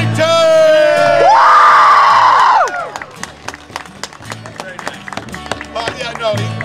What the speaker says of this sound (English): Now a round of applause for the one and only man of the hour.